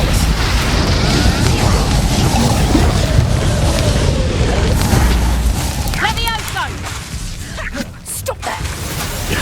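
A Confringo blasting spell explodes during a Hogwarts Legacy duel, a loud rumbling boom and roar that fades, followed by shorter crackling bursts.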